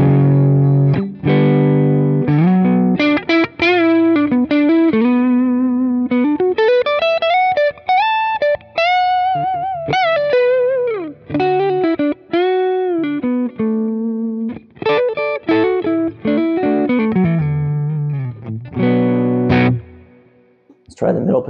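An Eastman T486 electric guitar with Seymour Duncan 59 pickups plays a melodic run of single notes and bends through moderate overdriven gain, up close and clear, with short pauses between phrases.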